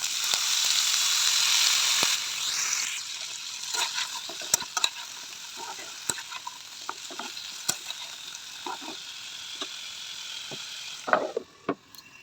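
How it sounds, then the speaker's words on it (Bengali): Chopped kohlrabi and potatoes sizzling and frying in a wok. A steady hiss sits under repeated scraping and clacking stirring strokes, heard up close with no talking. "ওলকপি আলু ভাজা আর রুটি বানাবো"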